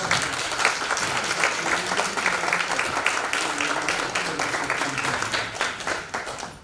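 A church congregation at a first-anniversary relocation thanksgiving service applauding in welcome, dense continuous hand clapping filling the room steadily from start to finish.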